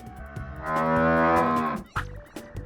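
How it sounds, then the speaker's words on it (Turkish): A cow moos once in a long, low, drawn-out call, fairly close, followed by a short thump and faint background noise. "İnek."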